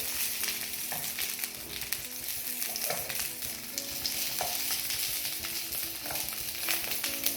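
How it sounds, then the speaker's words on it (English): Sausages sizzle steadily in a hot frying pan for a bangers and mash with onion gravy, with a few soft scrapes and knocks as they are turned over, close and continuous with no talk. "I'm just going to start turning these sausages over."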